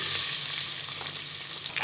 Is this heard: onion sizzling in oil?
yes